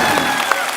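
Applause from the studio audience of an Indian TV comedy show, a brief burst of many hands clapping with a few sharper claps standing out over a bright tonal background.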